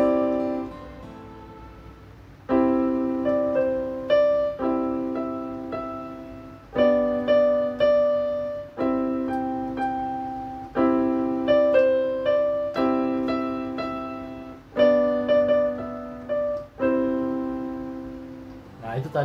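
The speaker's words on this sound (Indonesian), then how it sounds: "Itu tadi lagu Mary Had a Little Lamb" Piano plays Mary Had a Little Lamb as a slow melody of single notes, each struck clearly and left to ring and fade before the next, with a short pause between phrases and no talk.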